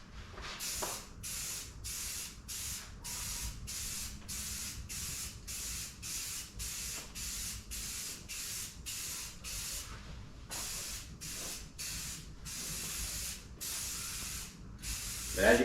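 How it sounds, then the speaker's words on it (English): Spray gun laying paint onto a panel of a 1995 Chevrolet Silverado, a steady hiss broken into about twenty regular passes with brief gaps between strokes, close and fairly loud with no talk. "I'm finishing my strokes past my panel. I might be wasting a little paint, but I'm getting a better result."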